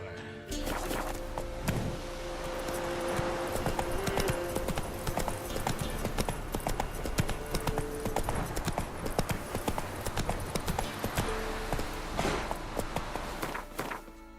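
Roach, the horse in The Witcher 3: Wild Hunt, gallops with steady, rapid hoof clip-clops on hard ground, the sound fairly close and continuous, with game ambience and a faint tone underneath.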